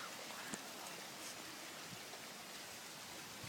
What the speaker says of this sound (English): It's so pouring.